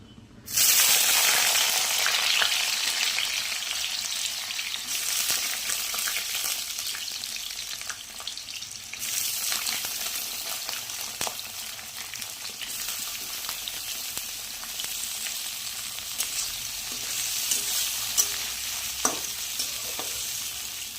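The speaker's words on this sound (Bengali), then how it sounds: "এক চামচের মতো ঘি দিয়ে দিলাম। এরপর আলুগুলো ছেড়ে দেবো।" Potatoes frying in hot ghee in a pan, a steady close sizzle that runs unbroken throughout with occasional stirring and a few small pops, and no talking.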